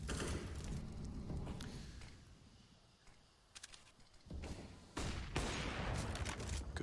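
Rifle gunfire in Counter-Strike during an IEM Katowice 2022 esports match comes as clusters of sharp shots and short bursts. It sits over a dense, rumbling game soundscape with clicks and thuds between volleys.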